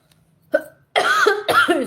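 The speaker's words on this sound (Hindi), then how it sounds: "अरे पता नहीं, हिचकी आने लगा" Three sharp, close hiccups come in quick succession from one person, each a short, loud voiced catch, the last two sounding fuller and more strained than the first.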